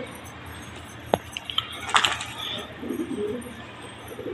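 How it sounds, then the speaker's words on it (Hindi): Pigeons on a rooftop give a soft, low coo amid light background noise, alongside a few faint clinks and fluttering sounds. "देखो पूरी छत घेर रखी कबूतरों ने, पूरी छत में मजे से उड़ रहे हैं।"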